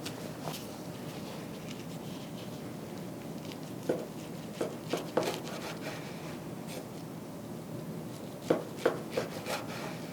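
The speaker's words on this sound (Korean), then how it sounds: "기다려서 이제 한번 썰어 볼게요." Knife cutting through a rolled kimbap on a board, a steady low rasp with scattered sharp taps and thuds as the blade meets the board, loudest around the middle and near the end, close and fairly quiet with no talking.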